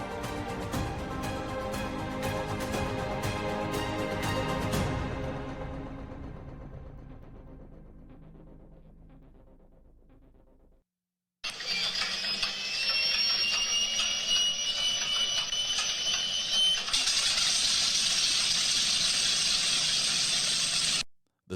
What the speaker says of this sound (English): The sound you just heard was of a B-25 Mitchell bomber.